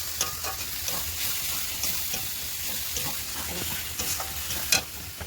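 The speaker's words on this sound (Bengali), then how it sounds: "মশলাটা হালকা একটু জল দিয়ে দিলাম, জল দিয়ে মশলাটা ফোটাবো, কষাবো" Spice paste sizzles steadily in a pan on the stove as a spoon stirs through it, with scraping strokes and brief clinks recurring over a constant close frying hiss.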